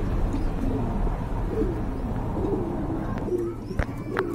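Pigeons cooing at a busy pigeon market, soft repeated coos rising over a dense crowd murmur, with a few sharp knocks and chirps near the end.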